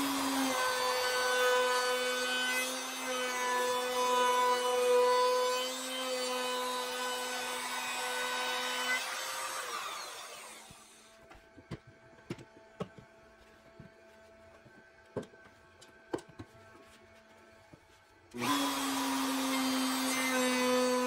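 A router cuts a quarter-inch roundover along the edge of a wooden cutting board, a loud, high, steady whine with a bright pitch. The whine drops off into quiet spindown with sharp ticks and clicks, then the motor starts up loudly again.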